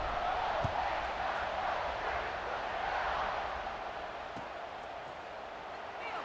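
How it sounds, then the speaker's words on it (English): Stadium crowd noise in an American football video game, a steady broad roar of buzzing spectators after a score, fairly loud and continuous throughout with no clear voices on top. "this crowd is buzzing after that last score"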